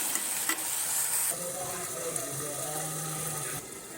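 Spring onion sabzi with chilli and onion cooks covered in oil over a low flame, giving a steady soft sizzle with faint stirring scrapes near the start.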